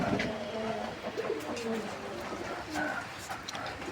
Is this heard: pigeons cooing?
yes